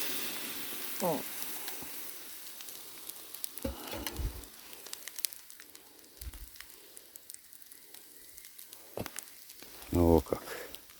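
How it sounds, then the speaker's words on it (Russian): Water poured onto a campfire sets off soft sizzling and hissing with a few louder splashy bursts, fairly faint and close, over quiet outdoor background. "Но и перед этим необходимо затушить костер."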